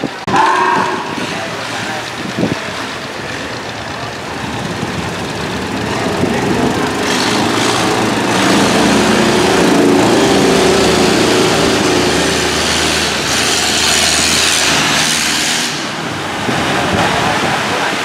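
A longtail boat's engine (vỏ lãi) runs at full throttle racing through big waves, a loud continuous roar that builds and holds with water rushing around it.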